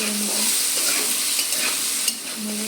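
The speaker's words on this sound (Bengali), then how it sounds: "লবণ দেওয়ার পর এটাকে লাল লাল করে ভাজবো নেড়ে" Potatoes frying with turmeric and salt for a Bengali potato-paneer curry: a dense, constant sizzle close by, with faint stirring scrapes and a couple of small knocks, no speech.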